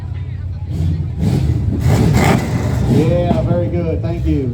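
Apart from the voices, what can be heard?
Plymouth car engine revving at a classic car parade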